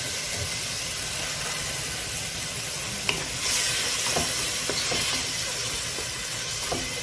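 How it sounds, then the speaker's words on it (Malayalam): Spicy shrimp roast masala is stirred in a hot pan after hot water goes in, under a steady sizzling hiss with occasional soft scrapes and taps of the spoon, close and continuous. "നല്ലതായിട്ടൊന്ന് ഇളക്കുക."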